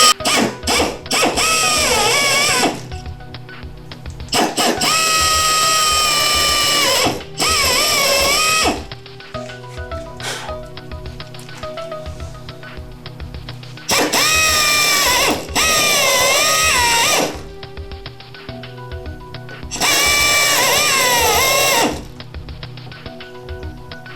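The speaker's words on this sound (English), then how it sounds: "You'll take and you'll drill." Power drill boring a hole sized for a number 10 screw with a 0.200-inch bit while fitting a steering relocation kit to a MOKAI jet boat; loud whining bursts of several seconds each, repeated with pauses between.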